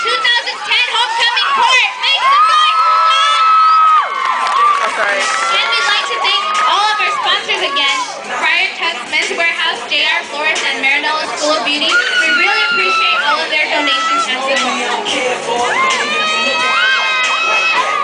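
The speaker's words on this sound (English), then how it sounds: "Let's hear it for your 2010 homecoming court. Make some noise for them!" A homecoming-court crowd at a school event cheers and shouts loudly and steadily, with children's and teenagers' high-pitched screams and whoops layered throughout the whole stretch.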